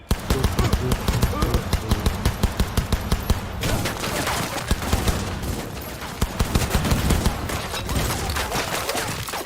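Rapid bursts of automatic gunfire in Cyberpunk 2077 rattle loudly and rhythmically in repeated volleys, with short pauses between them and a dense firefight texture throughout.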